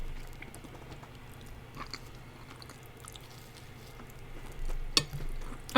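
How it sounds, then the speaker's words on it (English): Someone munching food while eating dinner during a livestream, with soft intermittent chewing and crunching close to the microphone, quiet throughout apart from a couple of sharper clicks and knocks near the end. "I'm gonna mute so you can't hear me munching"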